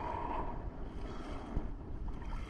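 Strong wind buffets a small boat at sea on a spearfishing day trip in the Philippines, a steady low rumbling gust with microphone buffeting, fairly loud and continuous with no talk.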